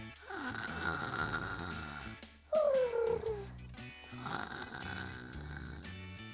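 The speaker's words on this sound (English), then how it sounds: "fast asleep and snoring" A child asleep on the back row of a bus snores in a cartoonish, exaggerated way over light music, with a sliding whistle-like tone in the middle of the stretch.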